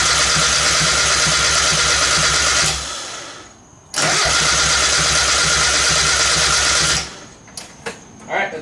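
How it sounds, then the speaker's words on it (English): A car engine cranking over for fuel pressure relief during an intake manifold gasket job, two long bursts of steady mechanical whirring separated by a pause, then a few short clicks and thumps. "Turn over the motor to try and get rid of all the fuel pressure."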